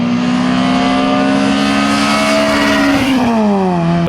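A front-wheel-drive car with an exhaust mod revs loud and close. The engine holds a strong, steady note, then the pitch sweeps downward near the end as the revs fall.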